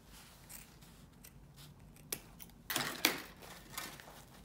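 Scissors snip through two layers of folded ribbon while a wreath bow is made, a few crisp cuts near 2.1, 2.8 and 3.1 seconds over a quiet room.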